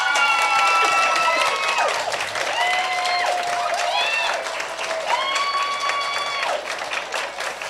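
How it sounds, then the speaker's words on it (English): An audience at a school board meeting claps and cheers loudly, with sustained applause and high whoops and shouts rising repeatedly over the clapping. "Kim apparently brought her own cheering section"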